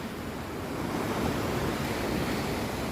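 Ocean waves wash continuously in a bay near a waterfall, a steady broad roar of surf with some wind buffeting the microphone, close and fairly loud throughout.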